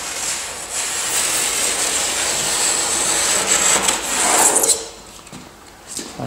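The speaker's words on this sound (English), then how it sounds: "This is just cutting off the aluminium foil here." Aluminium foil being cut off a workpiece with a hand tool, a sustained close, bright scraping and rasping that swells and then stops abruptly near the end.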